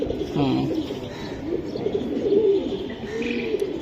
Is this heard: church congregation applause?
no